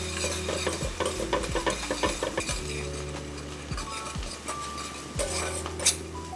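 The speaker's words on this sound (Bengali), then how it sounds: "তেলটা হালকা গরম হয়ে আসলে পেঁয়াজ কুচি দিব 1 কাপ।" A cup of finely chopped onion frying in a quarter cup of mustard oil in a kadai, a busy sizzle overlaid with repeated metal clinks and scrapes of a spoon stirring close by.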